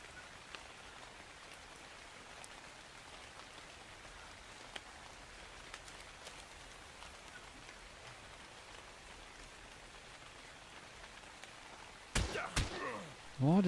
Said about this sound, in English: Bit of rain never hurt anybody.